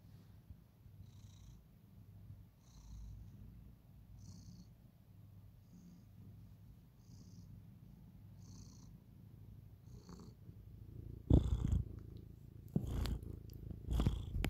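A male cat purrs right up against the mic in slow, rhythmic rumbling cycles, each breath carrying a soft hiss, before louder handling bumps and rustles near the end.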